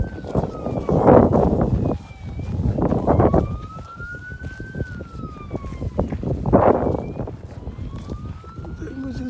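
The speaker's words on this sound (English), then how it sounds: "The emergency vehicle is going with siren." An emergency siren wails with a rising and falling pitch on the way to an active volcano site in Iceland, sweeping steadily over loud traffic and crowd noise, with voices talking around it.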